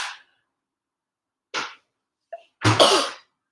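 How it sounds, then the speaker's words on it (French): A single close, sharp sneeze burst near the end, preceded by a few brief breathy sounds amid silence. "pardon, je vais éternuer"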